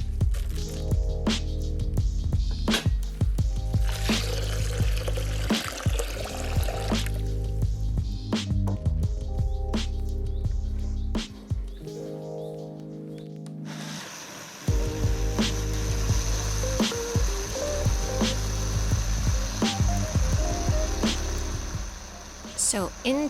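A blender whirs as it purees soaked hemp seeds with about three and a half cups of water on a fairly high setting, a steady loud grinding churn that shifts pitch partway through, with no talking.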